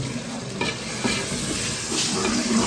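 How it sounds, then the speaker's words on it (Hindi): Onions and tomatoes frying in a pan in a village kitchen, a steady close sizzle with stirring scrapes running throughout without talk. "अब डाल दें प्याज भी, प्याज में टमाटर"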